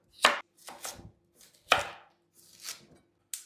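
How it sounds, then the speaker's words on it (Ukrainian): A knife slices a halved carrot into half-rings on a board, five or six crisp, separate chops at an uneven pace, close and fairly quiet, with no voices. "І нарізаємо ось такими півкільцями."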